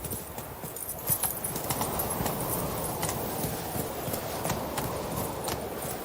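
Roach, the horse in The Witcher 3, gallops along, a dense, steady run of clip-clopping hoofbeats lasting the whole stretch at an even, close level.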